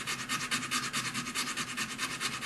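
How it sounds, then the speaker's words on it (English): A hand file scrapes steadily back and forth across excess wire on a wire inlay piece, with quick, even rasping strokes repeating close up with no talk. "we can take the file, being careful, and just filing all that extra off"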